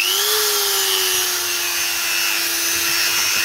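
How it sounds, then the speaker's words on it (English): A Dremel rotary tool carves a moon shape cut from wood with a jigsaw for a vampire slaying kit, giving a close, steady high-pitched whine with a slight pitch rise and grinding throughout. "now I'm about to carve it with a Dremel"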